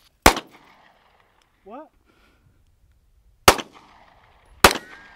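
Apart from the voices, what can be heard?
gunshots fired at a shooting range target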